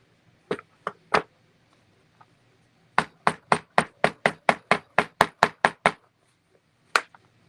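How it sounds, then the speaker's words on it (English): Sharp hammer blows driving a part into a clock: three spaced strikes, then a quick steady run of about a dozen, and one final hit. They are close and loud, with no talking. "hammer it to get it all the way in."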